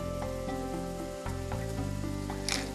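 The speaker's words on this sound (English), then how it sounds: "Of course, we're going to add a nice little dash of Chardonnay. Give it a little bit of a saute." Salmon dish ingredients sauté in a hot pan with a splash of Chardonnay, giving a steady close sizzle with a few soft stirring scrapes and no voices.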